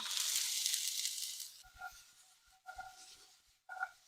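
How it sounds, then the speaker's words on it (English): Onions dropped into hot beef fat for chili, giving a loud, broad sizzle for the first second and a half, then fading to quieter frying with a few soft knocks and clinks. "in go the onions"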